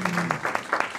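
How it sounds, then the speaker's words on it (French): An audience at a French round-table discussion claps briefly, a quick burst of distinct hand claps with a faint voice at the start. "on peut applaudir"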